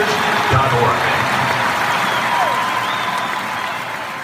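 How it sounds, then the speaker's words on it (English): A large stadium crowd applauds and cheers at Oklahoma Memorial Stadium, a dense, steady wash of clapping that carries on for several seconds and fades slightly toward the end. "That's the crowd at Oklahoma University just this past season."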